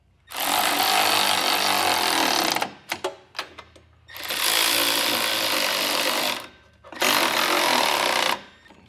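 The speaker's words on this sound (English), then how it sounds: "we'll get these all tightened down." Hitch bolts being tightened with an impact tool, loud continuous buzzing whirs in three long bursts separated by brief clicks and short gaps, close by and without talking.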